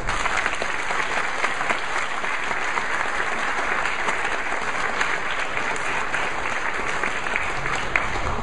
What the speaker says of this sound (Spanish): Damos la bienvenida con un glorioso aplauso al ingeniero Enrique Libre.